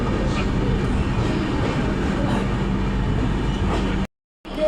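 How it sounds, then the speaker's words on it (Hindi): Gitanjali Express pulling into Chakradharpur station, a loud continuous rumble of rolling wagons with faint clatter, ending in a sudden brief cut to silence before the noise returns. "अपनी ट्रेन अभी पहुंची है चक्रधरपुर पे"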